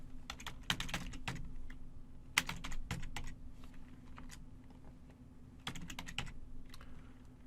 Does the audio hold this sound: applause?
no